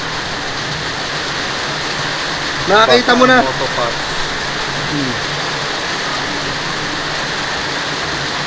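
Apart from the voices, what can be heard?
heavy rain falling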